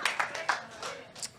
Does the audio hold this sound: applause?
yes